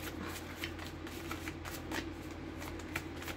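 Oracle cards are shuffled for a love reading in a rapid, continuous papery riffle with small flicking ticks, close and steady throughout, with no voice over it.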